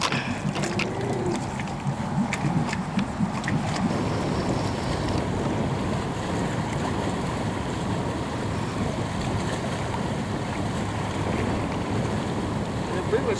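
Small electric boat running across choppy water, with steady broadband wash of waves and hull splashing plus wind buffeting the microphone throughout, fairly loud and continuous, brief faint voices early on.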